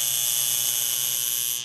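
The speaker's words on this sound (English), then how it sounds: "First, humming or buzzing noises." A solenoid valve gives off a loud, continuous, harsh electrical buzz, steady throughout and then cutting off abruptly at the end, with no talking.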